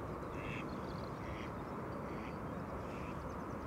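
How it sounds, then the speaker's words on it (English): A mallard duck quacks a few times outdoors, faint, short calls spaced through steady loud wind or rushing water noise that covers most of the sound. "Here comes a mallard."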